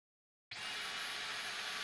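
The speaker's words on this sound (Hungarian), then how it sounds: "miközben megy itt a porszívó" A vacuum cleaner switches on abruptly after half a second of silence, then holds a steady, fairly quiet whooshing whine as it keeps running, with no talk.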